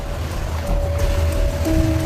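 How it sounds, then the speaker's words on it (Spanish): Normal waves churned up in a wave tank around a scale model ship, a steady washing surge of water with a faint constant tone running through it, continuous and fairly close. "Primero generan un patrón de ola normal."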